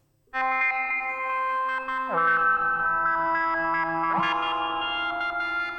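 A Behringer synth patch plays with a sample and hold LFO and some reverb, a sustained tone with stepped pitch shifts at two points, loud and alone.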